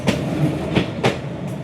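A train rolls past at very close range on Hanoi's narrow train street. Loud, steady rumbling is broken by sharp rhythmic clacks as the wheels cross the rail joints.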